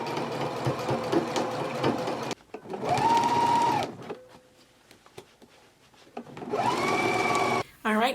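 A sewing machine stitches a sleeve band seam on a jacket, running in two loud sustained bursts separated by a quieter pause with a brief hum and clicks.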